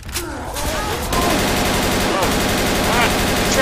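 Sustained, dense automatic gunfire in Left 4 Dead 2, a loud continuous stream of rapid shots that barely lets up, with brief voices underneath.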